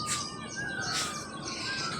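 Outdoor morning birdsong fills the air, a few clear chirps and tweets rising over quiet ambient hiss, moderately close and unaccompanied by speech.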